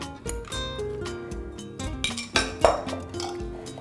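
Beetroot salad is tossed with sauce in a bowl, giving close, irregular clinks and scrapes of utensils against the dish, with a few sharper knocks toward the end.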